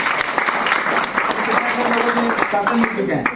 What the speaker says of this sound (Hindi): इनके लिए भी ताली बजा दो।